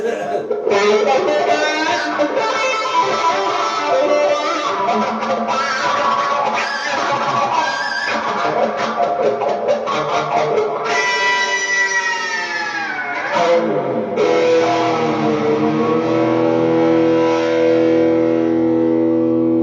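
An electric guitar runs through a Mr. Black Bloodmoon pedal with overdrive, played loud and alone: distorted strummed chords followed by sustained, pitch-bending notes that swoop downward before settling into a held tone.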